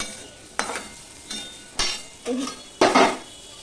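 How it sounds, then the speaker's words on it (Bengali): Carrots and potatoes frying together in hot oil, with a spoon stirring and scraping the pan in five bursts of sizzle and clatter that grow louder toward the end. "এবার গাজর আর আলু আমি একসাথে ভেজে নেব।"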